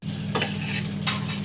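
Garlic cloves sautéing in hot oil in a pan, with a steady low sizzle and two short scraping stirs of a utensil, close and clear with no talking.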